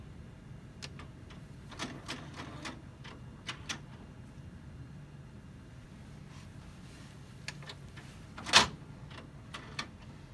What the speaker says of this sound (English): it's giving us the prompt to actually open the platen, so let's do that